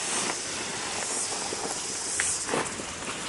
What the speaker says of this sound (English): It's still a cicada going.